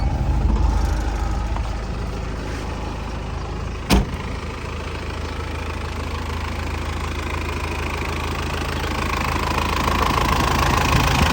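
A steady, rumbling 2.5-litre diesel engine in an Isuzu KB2500 pickup truck idles nearby with an even, slightly knocking drone, broken once by a brief sharp click; nobody speaks.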